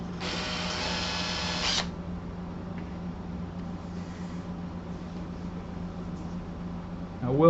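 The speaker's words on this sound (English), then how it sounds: "position your drill" A hand-held power drill bores into wood for a segmented jig, one loud steady whir lasting about two seconds up close, then a low hum and faint handling noise with a brief louder noise at the end.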